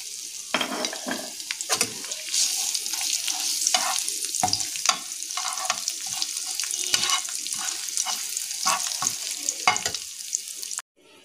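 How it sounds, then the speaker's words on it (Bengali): Whole cumin, dried red chillies and curry leaves tempering in hot oil, a loud crackling, spluttering sizzle with frequent pops and stirring clatter, close up, cutting off abruptly at the end. "এবার আমরা এর মধ্যে গোটা জিরে, শুকনো লঙ্কা এবং কারি পাতা এগুলো ফোড়ন দিয়ে দেব"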